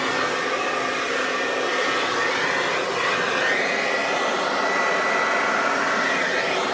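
A new blow-dryer runs close and loud, giving a steady rushing whoosh of airflow with a faint motor whine throughout, alone and without talk.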